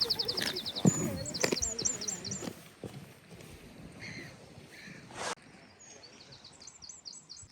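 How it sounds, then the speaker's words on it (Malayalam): At dawn by the sea on the UK coast, birds sing in quick repeated chirping bursts, fairly distant, over outdoor background noise with a few dull knocks and thumps. "കിളികളുടെയും ഒക്കെ സൗണ്ട് ഇതിലിങ്ങനെ കേൾക്കാം കേട്ടോ."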